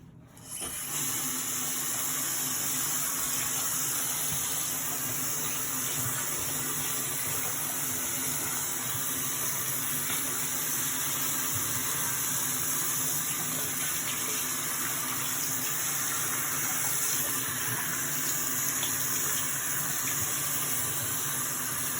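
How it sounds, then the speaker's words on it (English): Cold tap water runs steadily and continuously while a cyanotype-printed fabric bag is rinsed, a constant gushing flow with no voices. "you wash it with cold water until the water becomes clear"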